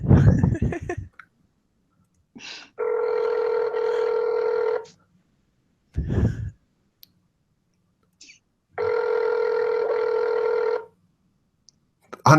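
A telephone rings during a prank call, two long electronic ring bursts separated by a pause, loud and close, with short bursts of muffled talk and clicks between them.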